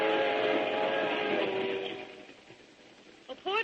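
A radio drama sound effect of a train rumbling along with a steady rolling clatter that fades away, followed by a few faint clicks at the end.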